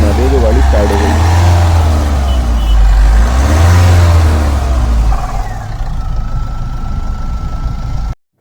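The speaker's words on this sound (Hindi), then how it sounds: "इंजन की साउंड सुनाते हैं जो गाड़ी स्टार्ट हो गई।" A Mahindra Scorpio N diesel engine, with E25 no-start, DPF dosing malfunction and NOx sensor faults, runs loudly with a steady low rumble and some revving, and its idle settles toward the end.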